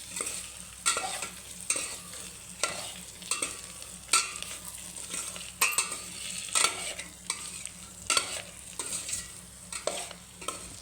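Drumstick pods fry as a dry vegetable dish in a pan, with a soft continuous sizzle under rhythmic stirring scrapes and spoon knocks, repeating about every second at close range.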